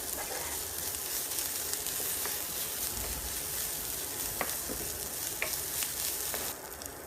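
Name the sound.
stirring broccoli with chopped tomato and other ingredients in a pan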